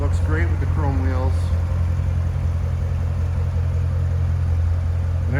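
A 2015 Chevrolet Corvette 3LT coupe idles with a steady, deep, even rumble close by, while a voice talks briefly at the start and again at the end.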